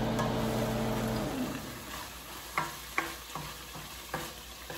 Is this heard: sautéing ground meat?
yes